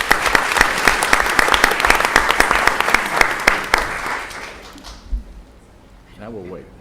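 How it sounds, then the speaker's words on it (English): Crowd at a commission meeting bursts into loud, sustained applause with sharp individual claps for about five seconds, then it fades out and a few voices murmur near the end. "How about a round of applause?"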